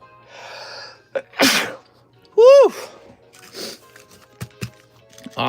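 A person gives one loud, close sneeze after a short breathy intake, followed by sniffs, small mouth noises and a quick exhale in an otherwise quiet room.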